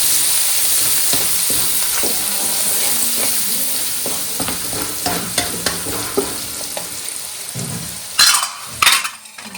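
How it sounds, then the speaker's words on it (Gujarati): Chopped onions frying in hot oil in a pan for idli sambar, stirred with a spoon: a steady close sizzle with repeated scraping and clinking strokes, louder clatters near the end, no voices. "આપણે નાખી દઈશું હવે ડુંગળી. ફરીથી મિક્સ કરી લેશું."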